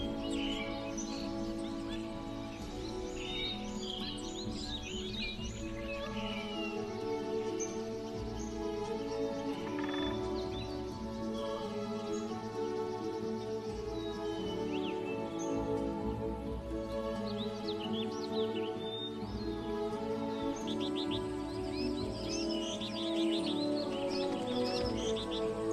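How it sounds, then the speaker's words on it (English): Morning birdsong in the forest of Gaoligong Mountain, many birds chirping and calling at a distance over a soft, steady background hum, faint and continuous throughout. "Morning chirps of the birds are heard everywhere in the forest."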